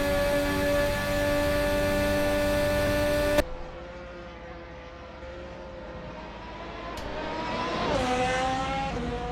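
A race car at full throttle howls with a sustained, high-pitched engine drone that holds steady, then briefly shifts pitch and climbs again as it keeps accelerating.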